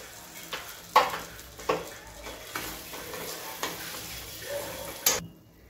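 A spoon stirs sweet semolina sheera in a pan after the lid comes off, with a soft continuous sizzle under several distinct scraping strokes spaced roughly a second apart, close and fairly quiet.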